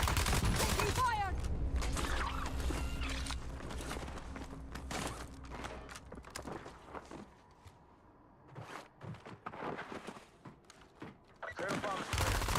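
Bursts of gunfire in Call of Duty Black Ops battle royale, loud rapid shots at first, then scattered shots and footsteps, with fire resuming near the end.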